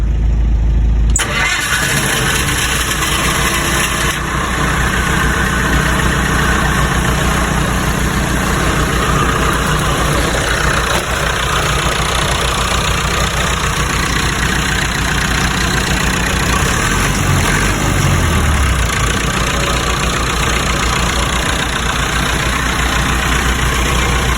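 A cold engine, sitting overnight, cranks and catches, then settles into a loud, steady idle with a low rumbling drone that continues throughout.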